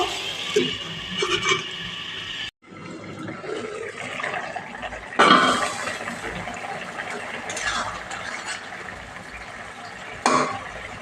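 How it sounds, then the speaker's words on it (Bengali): Water poured into a pan of lightly fried pumpkin in a home kitchen: a few short, splashy pours come close by, with light clatter of utensils and pans between them. "এবার পরিমাণ মতো জল দিয়ে দেব"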